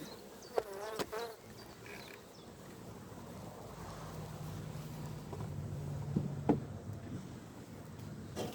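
Honeybees buzz around an opened hive box in Ireland, a dense, agitated drone close by, with a few louder passes and some handling clatter.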